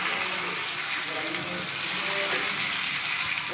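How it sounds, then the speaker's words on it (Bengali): Onions frying in oil with a bay leaf in a home kitchen, giving a steady, soft sizzle and crackle while someone talks over it. "পেঁয়াজটা লাল লাল করে ভেজে নিচ্ছো"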